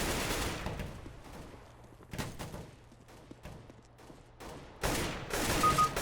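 Gunfire from the game CS:GO, with sharp bursts of shots at the start, in the middle and in a loud closing stretch, separated by quieter gaps of faint in-game background noise.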